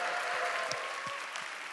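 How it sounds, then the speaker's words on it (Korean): Applause from a church talk-concert audience in Seoul, a steady soft wash of many hands clapping at a distance, faint and even throughout. "다시 한번 뜨거운 박수 부탁드릴게요"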